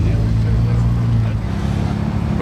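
A Ferrari 296 GTB supercar drives past on a Paris street, a loud steady engine drone with a deep low hum that eases slightly as it goes by, with people talking nearby.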